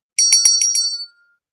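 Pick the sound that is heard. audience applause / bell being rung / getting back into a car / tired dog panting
bell being rung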